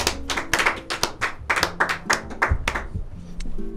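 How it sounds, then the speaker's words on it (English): Office staff clap in scattered, uneven bursts, a dozen or so sharp hand claps close by that thin out toward the end, with faint talk underneath. "We're a clap happy office today."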